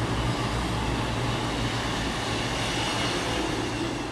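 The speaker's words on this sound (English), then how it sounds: "Here's another Pendolino." A Pendolino passenger train runs through South Hampstead station, making a steady, loud rumbling roar with rail noise that holds evenly for the whole stretch, with no voices.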